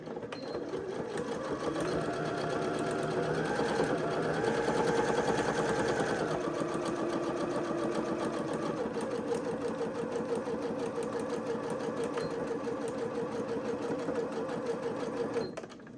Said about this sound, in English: I'm going to sew straight along this bit here